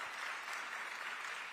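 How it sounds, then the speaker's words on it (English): Brief, faint applause from a festival audience at a morning mainstage session, a soft, even spatter of clapping that lasts only a moment. "clap for that, please."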